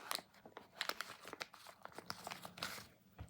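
Close, quiet crinkling and rustling of plastic blind box packaging as a knot is untied and the package opened, a busy run of small crackles and tearing sounds with no talk.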